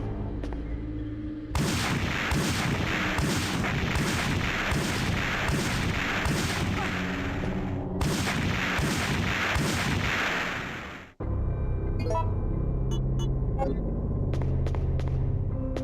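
Gunfire from the 1999 video game Resident Evil 3: Nemesis comes in loud sustained bursts of rapid shots, a long volley, a brief gap, another burst, then sharper scattered single reports.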